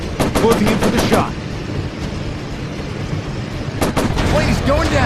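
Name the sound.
aircraft machine gun fire in video game World of Warplanes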